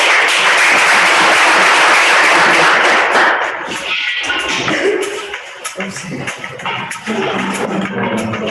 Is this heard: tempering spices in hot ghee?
no